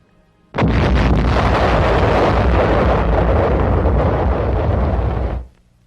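Artillery fires high-explosive shells, producing one loud, booming roar that starts sharply and rumbles on for about five seconds before cutting away, with no voices.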